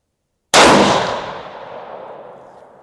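A single sharp rifle shot from a Ruger Gen 2 in 7PRC at an outdoor range, loud and close, with a sudden crack followed by a long rumbling echo that fades over about two seconds.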